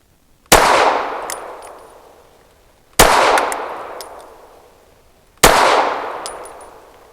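Three loud, sharp pistol shots from a PSA Dagger Micro firing Ammo Inc Stealth 165 grain rounds ring out about two and a half seconds apart, each with a long fading echo and small metallic clinks afterward.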